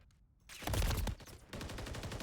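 Gunfire in the shooter game Call of Duty: Modern Warfare 3 during a competitive match, a rapid burst of shots after a brief quiet start, followed by continued rattling fire at moderate volume.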